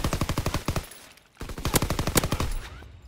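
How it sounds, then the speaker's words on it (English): Rapid bursts of automatic gunfire from a video game, two tight rattling volleys separated by a short pause, loud and close with sharp repeating shots. "I heard another guy shoot somewhere, sir."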